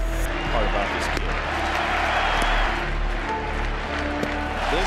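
A baseball stadium crowd on its feet roars in a steady, loud wall of cheering during a Stephen Strasburg strikeout game, with faint claps and thumps within the din.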